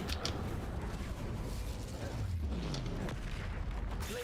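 An Incendio fire spell in Hogwarts Legacy on Nintendo Switch roars and crackles continuously, with a creaking, booming texture and a brief sliding tone partway through.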